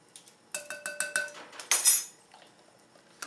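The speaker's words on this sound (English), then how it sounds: "Now, you just stir it until it's all like creamed looking." A spoon clinks repeatedly against a bowl while stirring cookie dough for honey cookies, a quick series of bright taps followed by a louder scraping clatter, with no talking.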